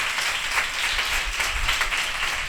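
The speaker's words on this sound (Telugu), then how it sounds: "గట్టిగా చప్పట్లు కొట్టండి." A church congregation at a Good Friday worship service claps loudly together, a dense, steady wash of many hands filling the room for the whole moment with no voices over it.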